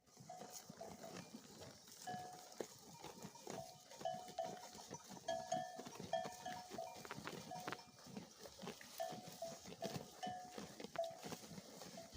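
A flock of sheep with bells grazes on a mountainside, clinking and tinkling bells sounding steadily and irregularly at moderate distance over faint outdoor ambience, with no talking.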